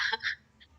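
A short, husky cough or throat-clearing burst from a hoarse speaker in an online session, followed by a fainter second catch, close to the microphone in a quiet room.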